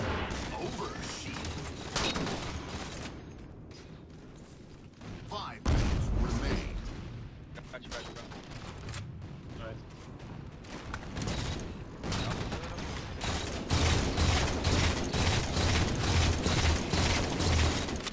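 Gunfire in a Halo 4 Team Slayer multiplayer match on the Adrift map: dense, rapid cracks and bursts run throughout, mixed with clanking game noise while players talk over it.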